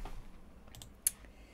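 A few faint, quick keystrokes on a computer keyboard during a lichess chess stream, with one sharper click standing out against a low background hum.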